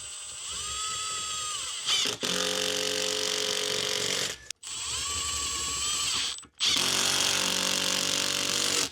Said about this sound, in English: I'm using these GRK screws to screw this to the studs on the wall.